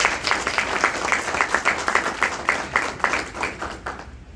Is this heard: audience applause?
yes